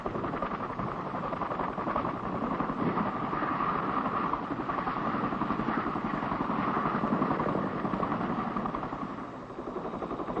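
A Boeing CH-47 Chinook twin-rotor helicopter roars steadily with a constant rhythmic rotor thumping and twin-turbine whine, buffeted by wind noise.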